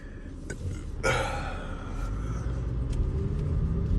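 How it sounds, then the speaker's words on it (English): A Mercedes-AMG GT53 engine starting with a quick whirring rise and then settling into a quiet, steady idle rumble heard from close by, with a few short knocks near the start. "This car is too quiet turning on, bro. It's not the 63"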